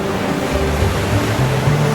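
Ocean surf breaking and washing in, a loud, continuous roar of churning water with a low rumble underneath.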